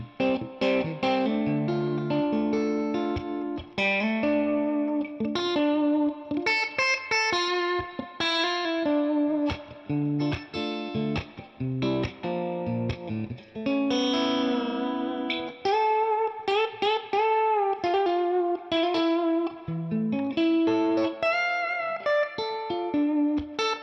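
A James Tyler Studio Elite HD electric guitar on its Knopfler pickup position plays continuous melodic phrases and chords through effects, with a bright, slightly driven and reverberant tone and no talking.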